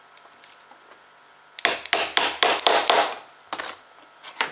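A wooden pulley is tapped onto the axle of a homemade pulley-driven electric toy car, giving a close run of about eight sharp, dry knocks in an uneven rhythm after a quiet start.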